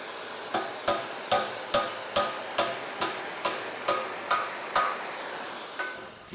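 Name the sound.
hammering 1/4 inch steel flat stock to bend it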